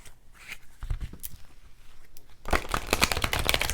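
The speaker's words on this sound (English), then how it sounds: "I do random cutting and shuffling." Tarot cards are cut and shuffled by hand, soft papery riffles and taps at first, then a louder, denser flurry of shuffling near the end, close and fairly quiet.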